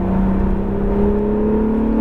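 An Acura NSX accelerates on a race track at Exotics Racing in Las Vegas. Its engine gives a steady, loud, rising drone from close by, with no talk over it.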